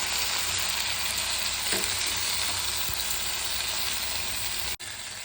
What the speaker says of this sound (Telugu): ఇప్పుడు ఇందులోనే టమాటా ముక్కలు వేసుకోవాలి